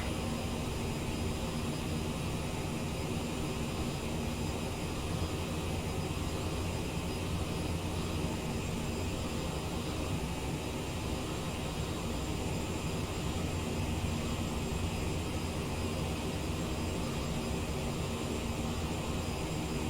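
Steady, unbroken roar of CRJ900 twin jet engines cruising in flight in a flight simulator game on a Montreal to Winnipeg route, a dense broadband drone with no voices over the full length.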